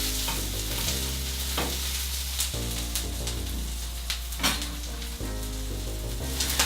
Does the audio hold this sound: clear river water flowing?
no